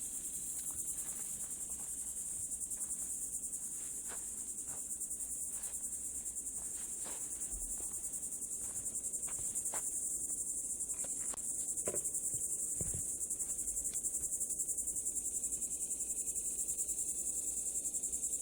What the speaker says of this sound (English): Only hear the cicadas right now,